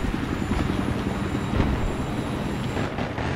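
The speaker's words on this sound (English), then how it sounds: "Watch out, that chopper's taking off under us." Helicopter taking off in a multiplayer shooter game: a loud, steady rotor and engine roar with a throbbing low drone held for a few seconds, close by, without speech.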